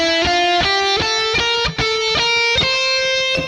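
Electric guitar playing a quick lick of picked single notes that climbs into the next scale position, clean and evenly paced at close range with no talking.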